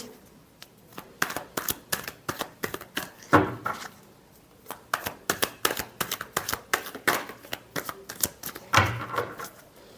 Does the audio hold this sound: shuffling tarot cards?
yes